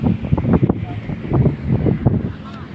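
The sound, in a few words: strong waves and wind at sea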